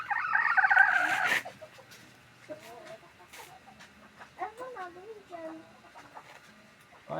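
Backyard chickens cluck in short scattered calls after a loud opening burst of noise, with people talking intermittently nearby.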